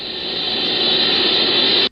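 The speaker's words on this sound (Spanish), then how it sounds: "Pero la Horn Antenna que utilizan recibe constantes interferencias." Steady hiss of background interference picked up by a horn antenna radio telescope, a broad even static rush that holds constant for about two seconds and then cuts off.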